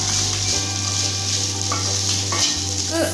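Cooked chicken tossed with vegetables in a pan for homemade noodles, a steady close sizzle with stirring scrapes and a low continuous hum beneath, no voices.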